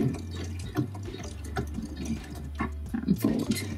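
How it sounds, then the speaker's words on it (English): A sewing machine stitches slowly through bulky layers and boning while refashioning a skirt into a sculptural top, giving soft, irregular ticking and thumping of the needle over a low motor hum, close and fairly quiet. "you're sewing through bulk and you're sewing through the boning"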